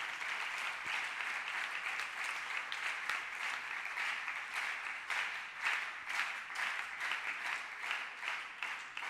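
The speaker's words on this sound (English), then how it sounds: "So sir deserves a much bigger round of applause for these achievements." Faint, somewhat distant applause from an audience at a university lecture on the Aditya L1 solar mission: many hands clapping in an uneven, continuous patter that swells and dips slightly throughout.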